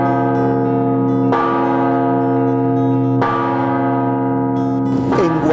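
The San José church bell in Guatemala, cast from 5,000 pounds of bronze, tolls three times in slow, evenly spaced strokes, each one loud and resonant with a long, humming ring that overlaps the next.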